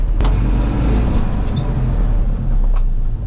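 A 1982 Ford F150 truck on a test drive, its engine and road rumble forming a steady, loud, continuous drone from inside the cab with no speech.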